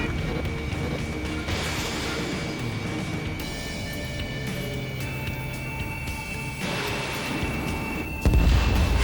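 Jet combat in Ace Combat 7 with a missile launch and crashing explosions, a steady roar of engines broken by bursts of impact and a heavy blast near the end, with radio chatter in the mix.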